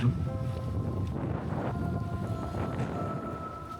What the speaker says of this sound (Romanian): Uitați-vă ce vânt bate!